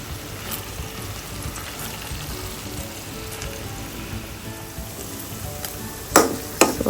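Chicken and capsicum stir-frying in a pan give a steady, moderate sizzle with faint stirring, and two sharper scrapes or clatters come near the end.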